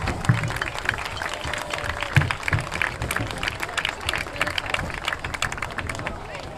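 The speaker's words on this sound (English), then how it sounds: "please stand and give a round of applause to the officiating team working this evening's contest" A standing crowd at an evening high school football game claps for the officiating team, a fairly faint, continuous patter of many hands with scattered louder claps throughout.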